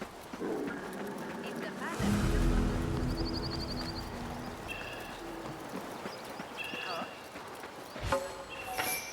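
Hooves clip-clopping at a steady walking pace in the video game Assassin's Creed Mirage, set among a busy street ambience with a passing rumble and a brief whinny-like call, while people talk over it.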